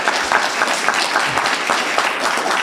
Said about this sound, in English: So if I could please get a round of applause.